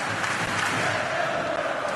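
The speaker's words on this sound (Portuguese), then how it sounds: "Aí a torcida do Vasco, a enorme torcida do Vasco." A huge crowd of Vasco football supporters roars and chants throughout a stadium during a Brasileirão match against Náutico, a dense, sustained wall of distant voices with no breaks.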